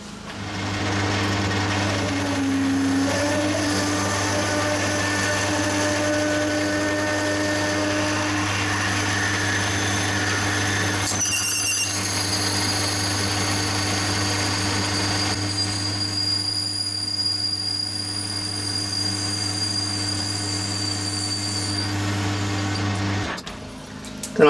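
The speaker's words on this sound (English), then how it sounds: "I'm going to drill this just under size and then bore it, and then we're going to ream at 9/16." A 12mm drill bit bores into brass on a lathe for a model glow plug engine part, the machine's steady mechanical drone running continuously with whining, squealing cutting tones rising and shifting throughout.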